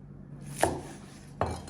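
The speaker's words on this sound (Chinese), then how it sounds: "我们先切点葱花备用，然后再切成段儿" A kitchen knife chops scallions on a cutting board, two separate crisp thunks spaced under a second apart over a quiet room background.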